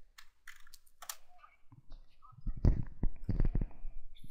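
Quick, irregular clicks of typing on a computer keyboard in a Windows XP text editor, light taps at first, then a denser, louder run of keystrokes, with faint talk mixed in.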